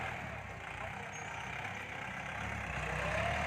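A Kubota L5018 tractor rotary tilling sandy soil gives off a steady, droning engine roar with a broad churning rumble that holds at a constant level without pause.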